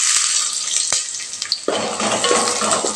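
Shallots and garlic sauté in coconut oil in a pan, a loud bright hiss of hot oil that swells into a fuller crackle partway through, with a couple of sharp utensil taps and clinks.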